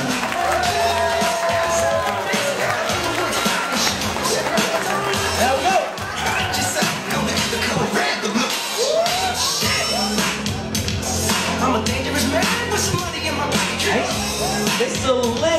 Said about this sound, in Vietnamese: Thưa quý vị, một tràng pháo tay thật lớn để cùng chào đón với chúng tôi, Mr. Christopher and Mrs. Hai Yen.